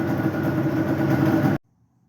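A 2001 Yamaha Banshee ATV engine runs loud and close with a steady, raspy roar for about a second and a half, then cuts off abruptly into near silence.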